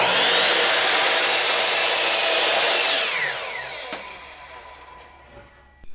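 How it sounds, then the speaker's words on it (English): A power saw cross-cutting a 2x4 gives a loud, steady, close buzzing whine for about three seconds, then spins down and fades, ending with a few small knocks. "we're going to cross cut a 2x4 into 15 and 9/16 inch pieces"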